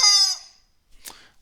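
Backyard chickens give a loud squawking call up close, followed after a short pause by a brief softer cluck.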